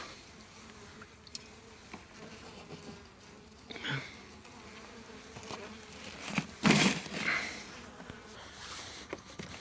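Hungry, weak honey bees buzz continuously around an opened hive during syrup feeding, a steady close insect drone with louder swells of wings passing near, no talking.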